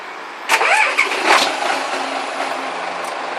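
A Hyundai 25-ton truck's diesel engine cranks and catches, then settles into a steady idle rumble, close by and loud, with no talking.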